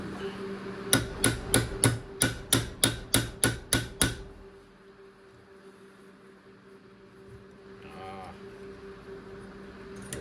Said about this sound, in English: The adjustable hammer did the job.